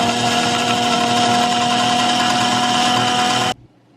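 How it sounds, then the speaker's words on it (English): An electric vegetable chopper with a grinder attachment on top whirs steadily and loudly as it chops kale and red peppers, a constant close motor drone that cuts off abruptly near the end. "I'm gonna throw in some kale and red peppers, and then connect this, and then put the grinder at the very top."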